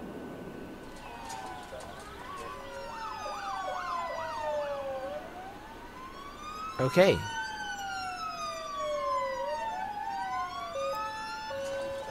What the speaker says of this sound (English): There's a fire engine. Look at him go. Look at him overtake.